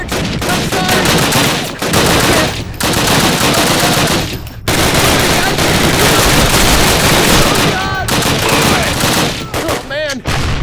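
Dense World War II battlefield gunfire in Call of Duty (2003), with overlapping machine-gun bursts, rifle shots and distant blasts forming a loud, continuous barrage, and shouted voices mixed into the chaos.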